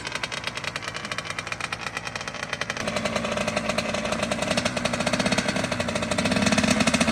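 A KX 85 dirt bike's small single-cylinder engine, just after a top-end rebuild, idling with a rapid, steady putter, growing slightly louder and rougher partway through.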